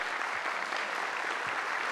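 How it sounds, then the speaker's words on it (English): Audience at a city State of the City event in Tacoma applauding, a steady, even wash of clapping from a crowd, moderately distant and continuous throughout. "give yourselves a round of applause for being here"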